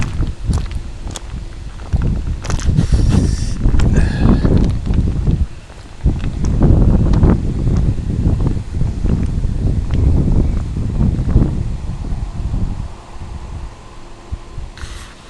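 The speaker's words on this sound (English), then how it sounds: "How is this sounding with the wind, I wonder?" Wind buffets a microphone outdoors in steady, heavy low rumbling gusts that last almost the whole stretch, easing briefly around the middle, with faint footsteps beneath and no talking.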